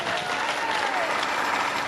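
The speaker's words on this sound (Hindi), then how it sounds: "एक बार उनके स्वागत में जोरदार तालियां।" An audience at a Shrimad Bhagavat Katha gathering breaks into loud, dense applause welcoming a speaker, a sustained wash of many hands clapping close by with no talk.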